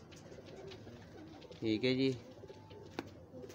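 Pigeons at a Lahore pigeon show, including a breeder hen, give a short burst of throaty cooing about halfway through, heard close under someone talking amid background chatter.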